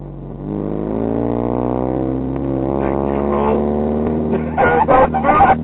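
A turbocharged 2004 Mitsubishi Lancer Ralliart engine running close by, a loud steady idle with a rising, wavering harmonic drone, and a voice briefly breaking in near the end.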